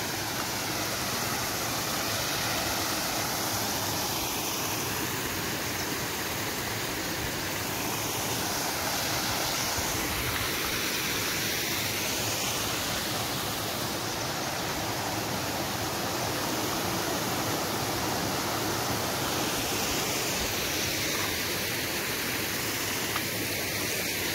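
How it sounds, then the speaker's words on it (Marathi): Steady, full rush of flowing water in a Konkan village, a continuous close wash of broadband noise with no breaks and no voices over its whole length. "बघा मस्त पाण्याचा आवाज येतो आपल्याला."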